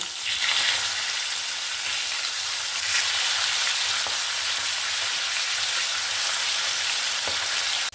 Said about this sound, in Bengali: মাছটা এখানে এক সাইড হয়ে গেছে আমি অপর সাইডটা উল্টে নেব